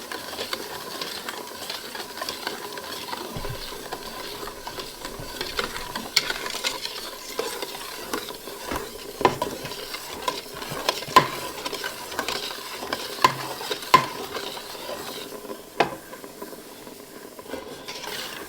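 Thick huckleberry pie filling is stirred in a pot on a hot stove, a steady low scraping and bubbling with soft irregular knocks of the spoon, continuous and close, with no talk.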